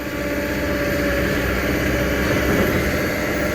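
A Kobelco SK200-10 excavator's four-cylinder Hino diesel engine runs continuously, a dense rumbling drone with no breaks, loud and close.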